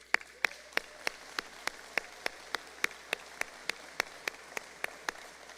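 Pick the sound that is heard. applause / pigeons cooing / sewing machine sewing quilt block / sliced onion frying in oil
applause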